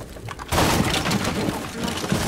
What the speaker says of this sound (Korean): 밖에서 쏘고 있어